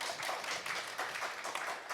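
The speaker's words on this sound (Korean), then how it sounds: "박수 부탁드립니다." Audience applause at a digital media content promotion forum meeting, a soft, continuous patter of many hands clapping heard from a distance, even in level from start to end.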